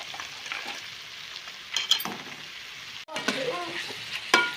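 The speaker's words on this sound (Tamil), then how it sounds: "லாஸ்ட்டாக ஒரு கிண்டு கிண்டி ஸ்டப்பிங் ரெடி ஆயிடுச்சுங்க" Vegetable momo stuffing fries in a pan as a spoon stirs it, giving a soft continuous sizzle broken by a few sharper scraping strokes and a brief pause near the middle.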